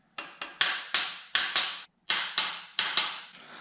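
Sharp, evenly spaced metallic clicks from a ratchet wrench tightening bolts on a BMW engine being rebuilt, about a dozen close, crisp strokes in short bursts with a brief pause midway.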